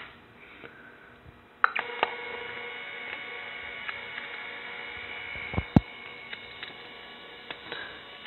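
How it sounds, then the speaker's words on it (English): A Lifepak 300 defibrillator's thermal printer runs out a real-time rhythm strip, giving a steady, thin mechanical whir over low hum, punctuated by a few sharp clicks and beeps, close by and with no talking. "we can fire up the thermal printer here if we want to, and you can either just do a real-time printing of the rhythm"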